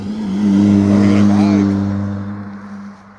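Motorbikes pass on a narrow one-way road over the Nick of Pendle near Sabden, a loud steady engine drone swelling and fading over about three seconds, close by.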